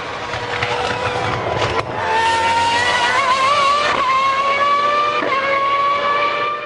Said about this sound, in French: un moteur Mercedes encore plus petit, à la sonorité bien particulière,